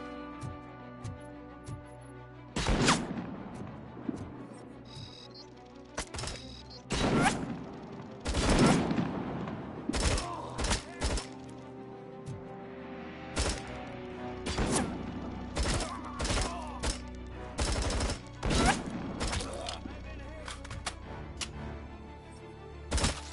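Sniper fire in the video game Robocop: Rogue City: a string of sharp, irregular gunshots with echoing tails, some loud and close, others quieter, spaced across the stretch without speech.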